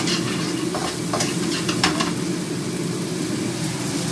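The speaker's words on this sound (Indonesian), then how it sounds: "Ini mau masak sambal goreng kerang." Sambal goreng with clams stir-frying in a pan: a constant close sizzle of hot oil with scattered scraping and clinking from stirring, no voices.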